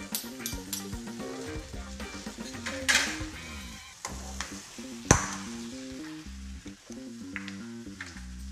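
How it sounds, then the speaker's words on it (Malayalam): Prawns frying with masala in a pan, steady sizzling broken by scraping stirs and clinks of a spoon against the metal, with a couple of sharp knocks, all fairly close and without talk. "എല്ലാം കൂടെ ഒന്നും കൂടെ ചേർത്ത് വെച്ച് നമുക്ക് പൊരിച്ചെടുക്കണം"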